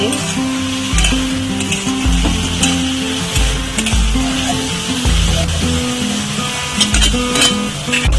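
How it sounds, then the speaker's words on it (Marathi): Pointed gourd (parwal) stir-fries with salt in a pan, a loud, steady close sizzle broken by regular scraping stirs and clatter of the spoon, with no voices. "मीठ टाकल्यावर परतून घ्यायचे"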